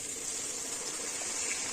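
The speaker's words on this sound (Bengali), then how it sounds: "আমি এখন জল দিয়ে দিচ্ছি" Water poured into a pan of fried katla fish for a thin Bengali curry, a steady close hiss and gush with no pauses throughout.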